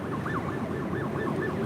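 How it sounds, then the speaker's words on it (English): A wailing siren rises and falls repeatedly in the distance near LAX, faint over a steady traffic rumble. "I hear the sirens."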